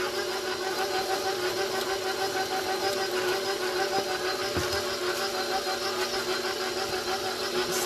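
An electric mixer whirs continuously while beating buttermilk pound cake batter, a close, even motor drone with a steady pitch that holds from start to finish.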